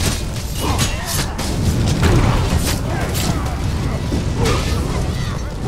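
Pulsar, a fire spell in Elder Scrolls Online, fired during Cyrodiil play: repeated booming thumps and whooshing bursts under near-constant player chatter.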